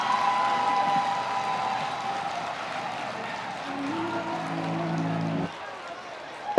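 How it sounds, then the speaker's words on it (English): Applause from an audience at the Esteem Learning Center 25th anniversary and prize event: a steady, moderately loud patter of clapping held under a voice and a sustained tone, dropping away near the end. "A round of applause for Esteem Learning Center"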